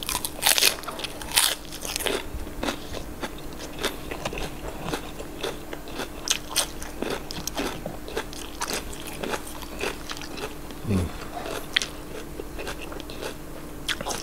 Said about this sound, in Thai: นี่ครับความกรอบของผักหักแตกโป๊ะหักแตกโป๊ะนะครับ